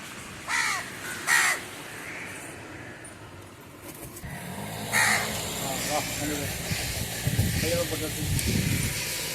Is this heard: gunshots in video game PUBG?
no